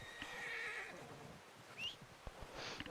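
Horse neighing in the video game Red Dead Redemption 2. A short, close whinny is followed by hoof clip-clops and soft ambient game sounds, and no one talks.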